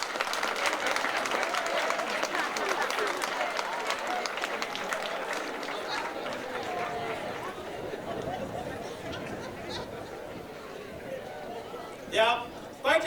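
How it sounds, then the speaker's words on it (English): A large group of students applauds their parents at a school event, dense sustained clapping mixed with crowd chatter and babble that gradually thins out, ending with a few louder bursts. "give parents a round of applause"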